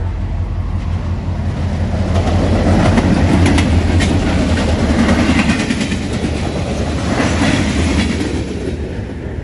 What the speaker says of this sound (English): an XBN Jeep leading, and even better, it was in the H1 paint scheme with a Leslie RS3L air horn